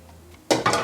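A dish set down in a kitchen sink while cooking vegan Puerto Rican food: after a quiet moment, two quick clattering knocks of crockery ring out close by.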